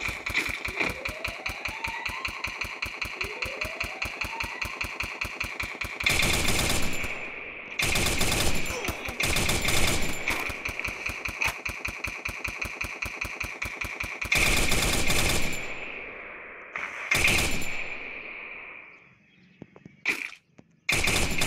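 Rapid automatic gunfire in the shooter game Free Fire rattles in long, fast bursts, broken by several sharp louder blasts and brief pauses.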